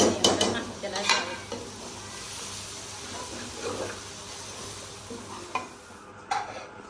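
Okra cooked with browned onion and masala in a pan over a low flame, a soft continuous sizzle with sharp stirring scrapes near the start and a few more toward the end, no voices.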